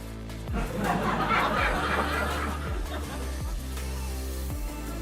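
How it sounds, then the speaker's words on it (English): A recorded laugh track rolls on a livestream, swelling into a wave of crowd laughter and chuckling that fades back down, set over repeating low background music. "This now laugh track should be at around 30."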